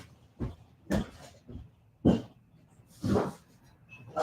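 A dog gives short, separate yelping whimpers, five or six bursts spaced unevenly with quiet gaps between, fairly close and alone.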